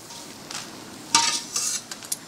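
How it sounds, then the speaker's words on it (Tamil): Mushrooms being sautéed in a pan until brownish for a mushroom gravy, heard as a few short scraping stirs and clinks of a spatula against the pan over a light sizzle, close and moderately loud. "ப்ரௌனிஷ் கலர் வர வரைக்கும் நீங்கள் வதக்கிக்கிட்டே இருக்கணும்."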